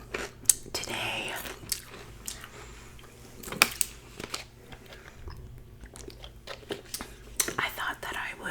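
Close, quiet chewing and crunching of a ham and cheese sandwich with pickle chips, with irregular bites and soft mouth sounds running through the whole stretch and a few sharper crunches standing out.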